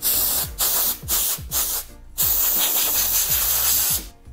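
Compressed air blasts dust out of a used, older GPU video card outdoors, in several short loud hissing bursts separated by brief pauses, then one long sustained spray, with faint rattling underneath.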